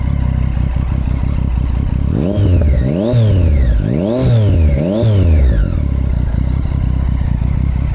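A Triumph Street Triple 675R motorcycle engine idling close by, then blipped through four quick rising and falling revs before settling back to a steady idle, no talking.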